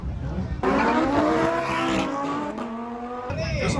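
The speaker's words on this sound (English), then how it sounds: "it is time to go drag racing" Cars drag racing on an unprepped strip lined with concrete barriers at a Thailand car meet, a loud engine roar that climbs in pitch through the gears, with a brief rising whine near the end.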